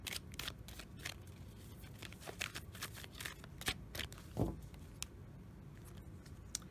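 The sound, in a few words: shuffling a deck of oracle cards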